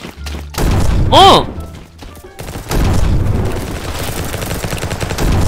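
Sniper rifle shots crack out in the shooter game Bad Business, loud close reports with thuddy tails, under excited talk and a brief exclamation.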